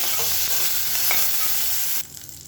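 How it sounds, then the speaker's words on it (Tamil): Mustard seeds, cumin, curry leaves and red chillies spluttering in hot oil for a quick kuzhambu: a dense, close crackling sizzle with faint pops fills the clip, then drops abruptly quieter near the end, with no talking. "கடுகு சீரகம் பொரிய ஆரம்பிக்கும்"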